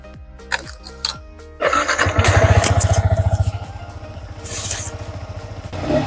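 Motorcycle engine starting and revving with a rhythmic pulsing rumble, riding away from a mountain campsite at Situgunung, close and steady with a few clunks and clatters at the start.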